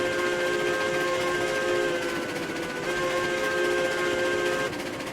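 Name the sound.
steam locomotive running on rails, from video game RailRoads Online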